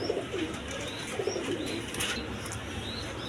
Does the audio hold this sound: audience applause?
no